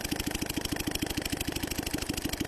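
An engine started with high-pressure air runs at a steady idle, a fast, even chugging pulse repeating without a break, clear and fairly near.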